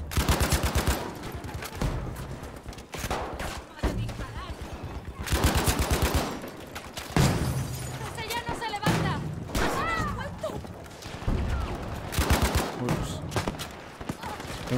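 Rapid bursts of automatic hip-fire gunfire in the video game Battlefield V, loud and repeated throughout, with voices talking over the shooting.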